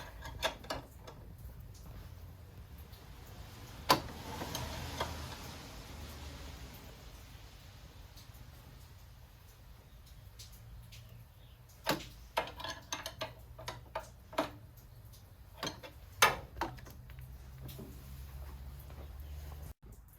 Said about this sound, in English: we're going to put in the hex key, and then we're going to tighten it